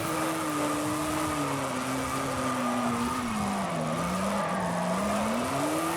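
A classic Maserati driven in Forza Horizon 5, its engine holding a steady, loud droning note that wavers slightly with throttle and gear, with continuous road and tire noise beneath.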